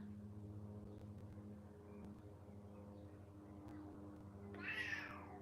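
A single cat meow rises near the end over a faint, steady background hum; otherwise quiet.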